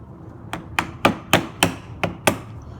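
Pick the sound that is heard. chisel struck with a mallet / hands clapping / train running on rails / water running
chisel struck with a mallet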